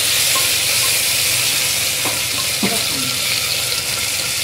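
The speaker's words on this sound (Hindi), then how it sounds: "अब टमाटर डालते हैं" Tomatoes go into onions frying in a pan for a spiced chana dal, giving a steady broad sizzle with a couple of soft stirring scrapes and clinks, fairly close and continuous throughout.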